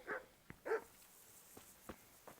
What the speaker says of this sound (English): God, I hate coming here because these dogs just bark non-stop.